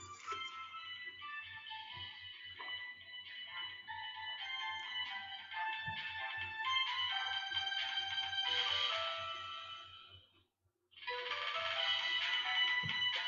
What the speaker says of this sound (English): I'm just waiting for that to stop ringing.